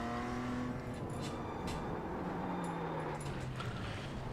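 A race car in the iRacing simulator, an unstable car run on a practice track, hums at a steady engine drone with a slow falling pitch, sounding close and continuous.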